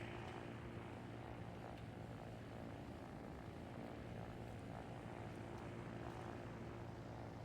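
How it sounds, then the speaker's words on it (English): A player-built helicopter flies in the video game Trailmakers, its engine and rotor giving a steady, continuous droning hum that holds at an even level throughout, with no talking over it. "We already have a decent flying helicopter"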